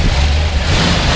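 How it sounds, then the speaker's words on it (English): A 1966 Ford F250 Custom Cab truck engine revs up, a brief, loud, deep roar held close and steady through the moment with no talking. "Go ahead and rev it up a little bit."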